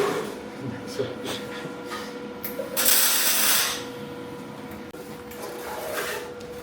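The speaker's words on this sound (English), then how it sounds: "Just doing a bit of professional tack welding" Tack welding on a trailer axle cross section for a teardrop trailer build, a crackling hiss that flares loudly for about a second mid-clip among workshop noise, with people talking nearby.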